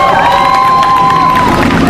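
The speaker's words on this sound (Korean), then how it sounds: "큰 박수로 모시겠습니다." Crowd cheering and applauding at a protest rally in Korea, a continuous wash of claps and shouts with a sustained whistle-like tone running through, loud and close throughout.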